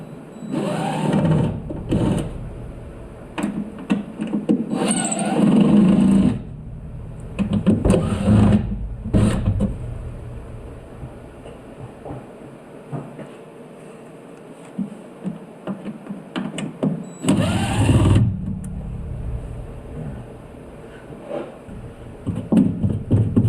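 Phillips head screws being backed out of the cowl panel on a Dodge truck, heard as several short, fairly loud whirring mechanical bursts separated by quieter gaps with low background hum.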